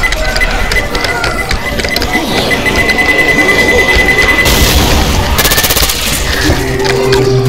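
A grenade explodes in the Left 4 Dead 2 video game amid loud, continuous gunfire and mechanical clatter, with a sharp burst of noise midway and shouting voices in the chaos.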